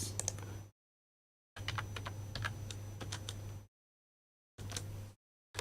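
Bursts of quick typing on a computer keyboard while coding in Python in Jupyter Notebook, close and crisp, separated by silent gaps, with a steady low hum underneath.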